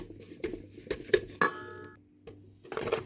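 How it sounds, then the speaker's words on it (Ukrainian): A wire whisk beats cake batter of oil and vanilla in a bowl for an apple pie, giving quiet, irregular metallic taps and clinks against the bowl with a brief ringing tone in the middle. "Це все разом добре вінчиком перемішую"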